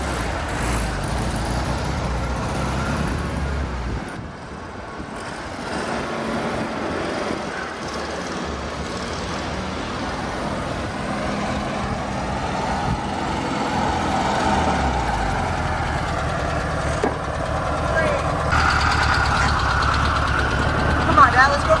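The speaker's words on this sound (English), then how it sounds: "With that, we've got a running, driving, stopping car." Engine of a 1972 VW Super Beetle running steadily as the car drives, a continuous mid-level drone that swells slightly toward the end, with people talking over it.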